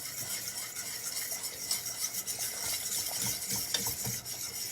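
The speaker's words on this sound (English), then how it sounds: "Use my fork. I just want to get those lumps out." A fork stirs lumpy gravy for keto biscuits and gravy, making a continuous scraping, sloshing rub against the pan with faint clinks, close and alone.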